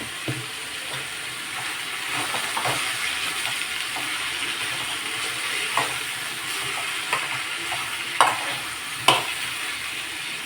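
Tomatoes fry in a pan for an Andhra-style pachadi, giving a steady hiss and sizzle, with occasional scraping clicks as a spoon stirs them.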